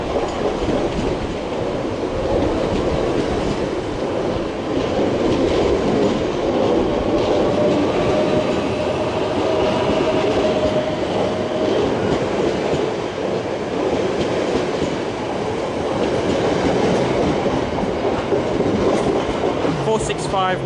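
A train rolls steadily through London Waterloo station, its wheels rumbling and clattering continuously with a faint squeal, loud and close throughout, with no pause.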